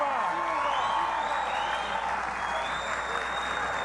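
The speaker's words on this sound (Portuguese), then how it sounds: "uma salva de palmas calorosa ao melhor e maior presidente da história desse país, Luiz Inácio Lula da Silva." A crowd at a political event in Bahia with President Lula applauds warmly, a continuous roar of clapping mixed with cheering and whistles throughout.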